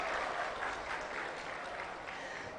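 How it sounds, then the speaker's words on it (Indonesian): A large hall of families and graduates applauds at a university graduation ceremony in Indonesia, a dense, even roar of clapping that holds steady throughout. "Mari kita beri apresiasi dan tepuk tangan meriah untuk mereka semua."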